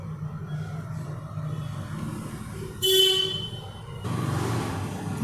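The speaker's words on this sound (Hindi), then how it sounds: "लोग पता नहीं क्यों अननेसेसरी हॉर्न बजाना ज़रूरी है" Vehicle horns in street traffic: a short, loud honk rises about midway over a steady rumble of passing traffic, followed by continued road noise.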